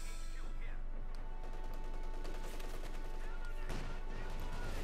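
An anti-tank gun fires in Company of Heroes 2, one sharp blast landing late amid a dense, continuous wash of battlefield gunfire and rumble.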